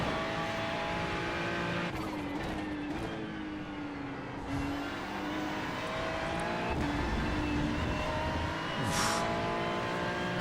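GT3 race car in a sprint racing video game, engine droning steadily at high revs with tyres sliding and scrubbing, gear changes and squeals rising over a continuous loud run with no talk.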